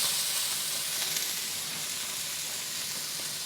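Chopped onions frying in a hot pan for fried rice give off a steady, even sizzle that carries unbroken throughout, with no talking over it.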